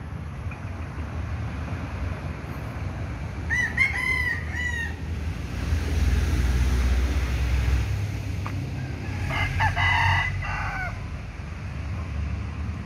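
Morning barnyard with chickens: a rooster's crow rises at mid-distance, then a louder, longer second crow follows several seconds later, over a continuous low rumble of outdoor background noise.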